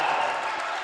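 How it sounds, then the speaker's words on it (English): Winnebago home crowd cheering loudly inside a gymnasium during a varsity boys basketball timeout against Bancroft-Rosalie, a steady dense roar of voices and applause filling the whole moment. "The Winnebago crowd is really loud in this gymnasium here"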